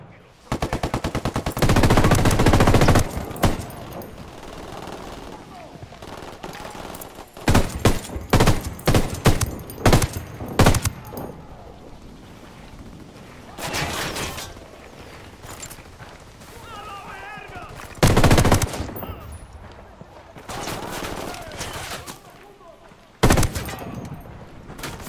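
Gunfire in the game Ghost Recon Wildlands: loud bursts of rapid automatic fire alternate with single shots and quieter gaps, with a horse's hooves and a whinny in between and players talking at times.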